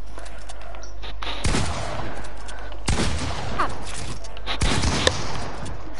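Gunfire in a first-person shooter, fired through a wall: three loud, sharp shot bursts spaced about a second and a half apart over steady background hum, with brief rattling between them.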